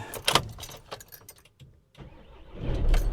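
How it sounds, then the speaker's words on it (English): A Euro 6 vehicle with a manual clutch starts up nearby: a few clicks and rattles come first, then the engine cranks and catches into a low rumble at the end. "Let's just push my clutch in and start the engine."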